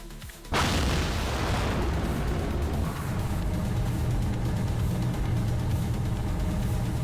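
A craft in Kerbal Space Program explodes with a sudden loud boom. A long roaring, crackling rumble follows and carries on to the end, with no voices.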